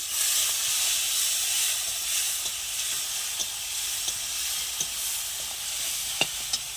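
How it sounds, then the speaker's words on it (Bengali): Chopped onions frying in a pan over a clay earthen stove, turning reddish, with a steady close sizzle and occasional stirring clicks from a utensil throughout. "পেঁয়াজটা এবার একটু লাল লাল করে ভাজা করে নেবে মা"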